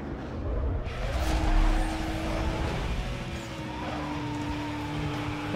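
A Porsche drifts in the racing game Need for Speed Most Wanted, its engine droning steadily with a whining tone and tyre noise, a continuous moderately loud roar with no talk.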